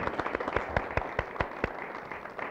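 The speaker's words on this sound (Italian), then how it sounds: "Un applauso lo merita" A studio audience on a 1985 Italian television sports show claps for the evening's fan section, with a short burst of scattered, fairly faint handclaps that thin out quickly.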